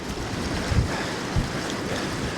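Storm Darragh's strong wind roars without break along the Dorset coast, buffeting the microphone with two brief thumps over a dense background of surf.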